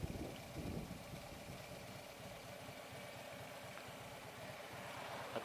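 A motorcycle engine idles at a stop with an uneven, lumpy beat like it is running on one cylinder, a low steady chugging pulse heard up close at modest volume.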